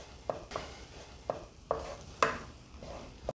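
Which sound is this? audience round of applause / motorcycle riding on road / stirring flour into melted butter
stirring flour into melted butter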